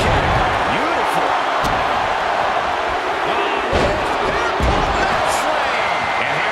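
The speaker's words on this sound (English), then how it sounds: "Listen to this crowd count the next one in." Arena crowd in the video game WWE 2K24 during a wrestling Royal Rumble match, a loud continuous roar with rhythmic surges and thudding impacts throughout.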